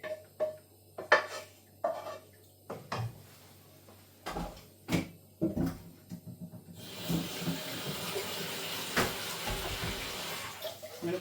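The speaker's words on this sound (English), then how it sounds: "now I'm going to put all of this sauce with the smoky sausage in it into the pan" Smoky sausage in tomato sauce goes into a hot pan: a run of knocks and clatters of pot and utensil, then from midway a steady loud hiss and sizzle that carries on to the end, with no talk.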